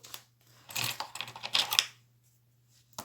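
Small scissors snipping embroidery thread for bead embroidery, a few close, crisp clicks and snips clustered in the middle of an otherwise quiet, faintly humming room.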